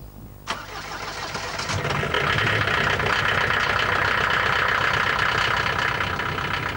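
An Opel Frontera Sport diesel engine cranks with a sharp catch and fires up, then settles into a loud, steady, rough diesel clatter at idle, heard close with no talking.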